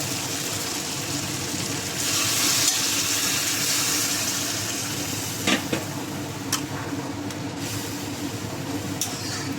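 Chicken and vegetable curry sizzles steadily in a pan, with a louder hissing surge as water goes in, followed by continued frying noise and a few small clinks; no one speaks.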